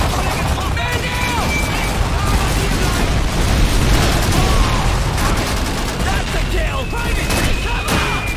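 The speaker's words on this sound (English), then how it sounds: "Charges set! Get clear of the gate!" Call of Duty 2 battle at a gate, demolition charges going off amid dense, continuous gunfire and booming blasts, loud and close, with a roar that never lets up.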